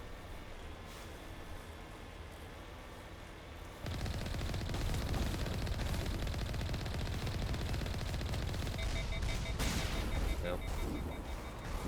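The main gun fires in Mass Effect, a sudden loud, sustained roar of rapid shots that starts abruptly and continues without a break, with a brief voice heard over it.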